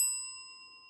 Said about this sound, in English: But can I ring the bell now?